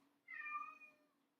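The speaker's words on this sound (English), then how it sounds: "that's one of my cats" A single clear meow from a house cat, close and fairly loud, rising and then falling over about half a second in a quiet room with a low steady hum.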